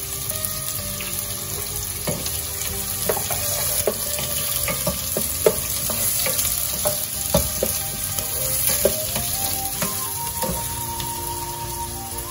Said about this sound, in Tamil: சோ கொஞ்சம் கடுகு போட்டு இதைய சாமனே கூட போறேன் வெங்காயம் போட போறேன் கொஞ்சம் வெச்ச பச்சை மிளகாய்